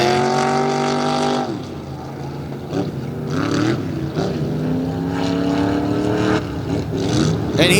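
A Chevrolet tough truck makes a competition run at an indoor event, its engine revving hard and rising and falling in pitch as it accelerates and eases off, loud and continuous with crowd noise underneath.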